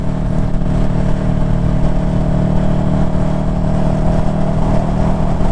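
Motorcycle fitted with a slip-on exhaust heard while riding, a loud, steady droning engine note with rough low-end pulsing and wind rush, continuous and close throughout.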